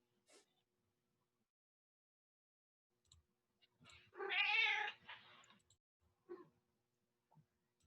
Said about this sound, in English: My cat likes to get in where I'm at too and meow and beg for attention.